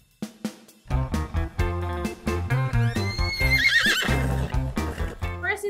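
A horse gives a loud, wavering whinny in the middle of the clip, set within a dense, continuous bed of other sound with no clear talk.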